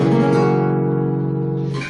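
A strummed flamenco guitar chord resolving to a dominant chord, the notes ringing together with a steady sustain that fades slightly at the end, clear and close with no voice.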